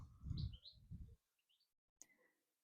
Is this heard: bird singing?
yes